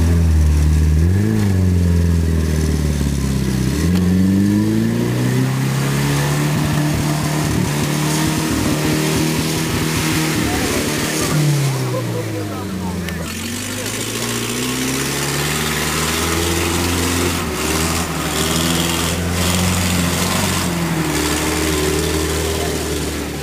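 Off-road vehicles at a 4x4 rally near Kosianka, Siemiatycze, driving a muddy slalom course. Engines rumble close and loud throughout, rising and falling as drivers rev and accelerate.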